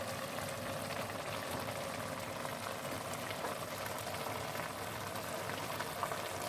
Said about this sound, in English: It's really boiling.